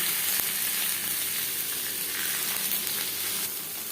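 Bhetki fish paturi cooks on an iron tawa over a high flame, giving a loud, continuous frying sizzle with faint crackles, then easing slightly near the end.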